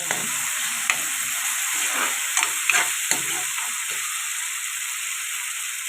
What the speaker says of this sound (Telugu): ఇది కూడా పచ్చివాసన పోయేదాకా ఫ్రై చేసుకోవాలి మగ్గించుకోవాలి